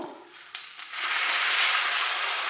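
Fish masala frying in oil on a tawa: a few light knocks, then a broad, steady sizzle that swells up close and holds.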